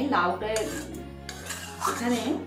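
A spoon scrapes and clanks against a pot while moong dal and bottle gourd are stirred, several distinct metallic knocks up close with a low hum behind.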